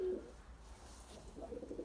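Pigeons give a few soft, low coos, one at the start and another toward the end, faint and close over a quiet background.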